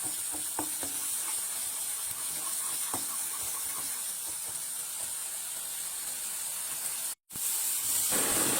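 Spices frying in a pan while being stirred, giving a faint, steady hiss with soft scraping taps throughout and a short break near the end.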